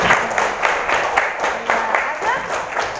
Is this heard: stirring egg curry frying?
no